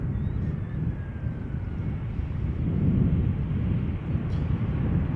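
Airbus A320 jet arriving at Schiphol from Bristol, a steady broad engine roar with wind buffeting, moderately loud and continuous throughout.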